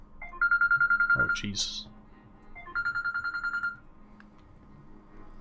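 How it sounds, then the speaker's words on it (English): Phone ringtone ringing during a game dev livestream: two bursts of a warbling electronic ring, each about a second long, close and clear, with a person talking between and around them. "That's my phone."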